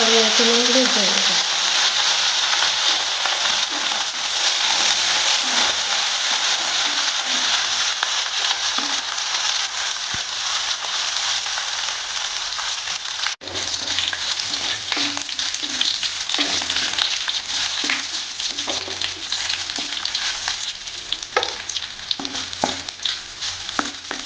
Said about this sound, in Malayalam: എണ്ണ ചൂടായിട്ടുണ്ട് ഇതിലേക്ക് കടുക് ഇട്ട് കൊടുക്കാം നമുക്ക് കടുക് ഉറക്കാം